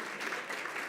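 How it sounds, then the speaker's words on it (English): Audience applause for a group of athletes at a Weslaco ISD school board meeting, a brief, soft, steady patter of clapping from a modest room crowd. "And now, a round of applause for our next group of athletes."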